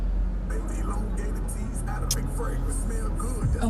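A car rolls past on a city street near a plaza, a steady road rumble that swells and fades over a few seconds amid outdoor ambience.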